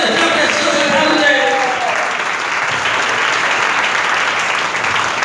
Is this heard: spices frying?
no